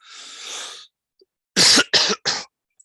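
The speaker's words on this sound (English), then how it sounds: "I'm sorry you just heard me cough" A short burst of noise, then three sharp coughs in quick succession, close and loud, with a brief pause before them.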